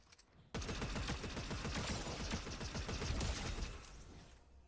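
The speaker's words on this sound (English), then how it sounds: "What a motherfucker shooting at Daffy." Rapid automatic gunfire from a video game, a dense burst of shots starting abruptly after a brief quiet and rattling on loudly for several seconds before easing off.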